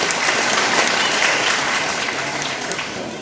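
A crowd of devotees bursts into loud, sustained applause at a religious silver jubilee ceremony honouring a swami, dense clapping that holds steady for several seconds without pause.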